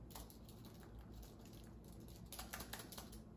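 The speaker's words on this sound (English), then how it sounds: "wait, can I start typing?" Typing on an Apple Magic Keyboard with number pad, faint quick key clicks in irregular bursts against a low background hum.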